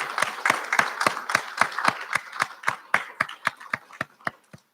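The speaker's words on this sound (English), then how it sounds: "I want to ask faculty and staff to extend you a round of applause for what you do and have done for us" Audience of faculty and staff at a recognition ceremony claps in a steady round of applause, sharp distinct claps in a fairly even rhythm, close and clear, fading slightly toward the end.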